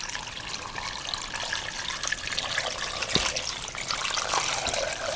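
A steady stream of purified water pours and splashes into a pressure cooker pot, continuous and close, with no voices.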